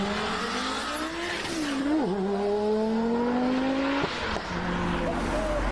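An Audi five-cylinder engine revs and races, with rising and falling engine tones, a sharp pitch sweep and tire-squeal-like bursts throughout, loud and close.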